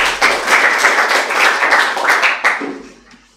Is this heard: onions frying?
no